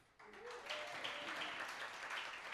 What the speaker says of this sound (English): Round of applause for Omar.